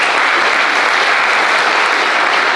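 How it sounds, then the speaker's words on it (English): Steady, dense applause from a school spring band concert audience fills an indoor hall, loud and continuous without pause. "Let's give yourself a round of applause."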